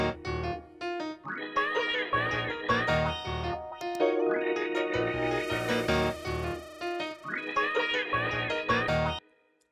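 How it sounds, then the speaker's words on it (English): A bright organ melody drenched in reverb plays in choppy, rhythmic phrases, its notes ringing out and trailing off into a wash of echo. "All I did was throw some reverb on the organ that they already had up in here,"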